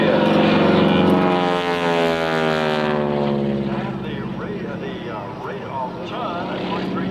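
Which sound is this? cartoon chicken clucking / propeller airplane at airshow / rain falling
propeller airplane at airshow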